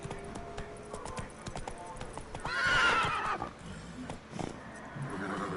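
A horse gallops in the video game The Witcher 3 with steady clip-clop hoofbeats and a loud whinny near the middle, with game voices and sounds mixed in.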